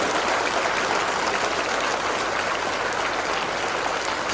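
A student audience claps hard and continuously, a dense, loud wash of applause that holds steady throughout with no pauses.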